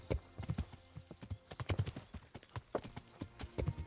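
Horse hooves clip-clop at a steady trot on a path in the medieval game Kingdom Come: Deliverance, an even rhythmic stream of dull thuds near and moderately loud, with no talking.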